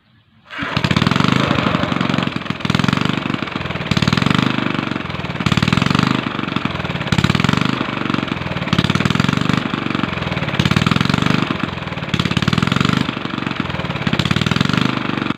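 A small engine fitted with a swapped carburetor runs with an uneven hunting idle, loud and close, its revs surging and sagging in a regular rhythm roughly every second and a half after starting up abruptly.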